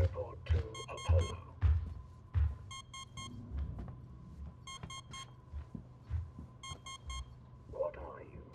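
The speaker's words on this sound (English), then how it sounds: "Who's beeping?" Electronic beeping in the video game Alien Isolation: short bursts of repeated high beeps recurring every couple of seconds alongside low thumping game sounds, with a voice speaking occasionally.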